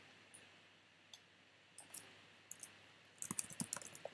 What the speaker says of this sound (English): and then just typing the code that's been given to me.